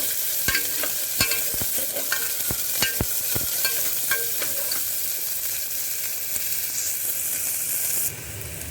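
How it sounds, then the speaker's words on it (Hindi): Onion and ginger stirred and fried in a pan, a steady sizzle punctuated by sharp spoon-against-pan clicks and scrapes, close and clear with no talking. "प्याज को ट्रांसलूसेंट होने तक भून के फिर अदरक डाल दूंगी"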